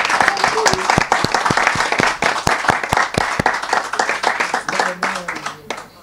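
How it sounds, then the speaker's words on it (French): An audience at a book-signing conference evening in Paris bursts into sustained applause, many hands clapping close and dense before the clapping gradually thins and fades. "Salve d'applaudissements s'il vous plaît pour ce monsieur."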